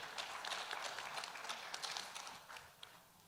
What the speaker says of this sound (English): A round of applause to Gerrit.